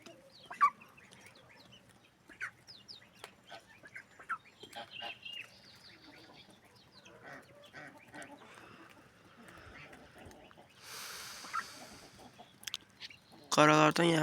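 Backyard chickens cluck in scattered bursts, close and fairly soft, with a brief louder flurry near the end and some voices in the background.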